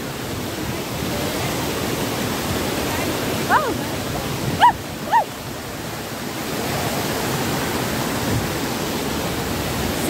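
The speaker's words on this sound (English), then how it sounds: "See, the waterfall is too good." A waterfall in Karbi Anglong roars as a steady, broad rush of water, with a few brief exclamations from a person over the constant noise.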